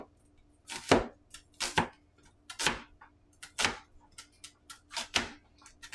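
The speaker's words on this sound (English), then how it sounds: "I'm gonna slice it kind of thin here." A halved onion is sliced thinly with a large cleaver on a cutting board, crisp evenly spaced chops landing one after another in a steady rhythm, close and clear, with no talking.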